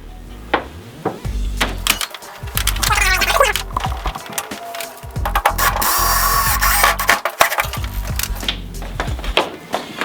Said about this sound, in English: So first we're just going to mount this to the wall.